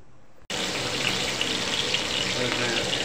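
After a brief quiet moment, a loud, steady sizzle bursts up as mustard seeds, cumin, dried chilies and onion hit hot oil and keep crackling without a break.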